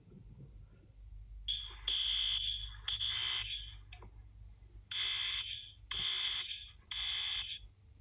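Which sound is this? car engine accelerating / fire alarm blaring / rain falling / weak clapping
fire alarm blaring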